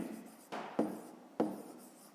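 Pen strokes on paper while a number inequality is written out in a fifth-grade maths exercise, a few close scratchy bursts with short pauses between them.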